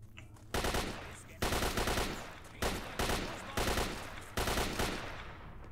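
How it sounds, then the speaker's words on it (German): Bursts of automatic weapon fire in S.T.A.L.K.E.R. Shadow of Chernobyl, five or six loud rapid-fire bursts each lasting under a second, separated by short pauses, with no talking. "Hör auf mich zu schießen"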